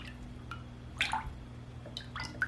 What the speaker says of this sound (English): I'm going to give this a quick little stir here, just to make sure everything is combined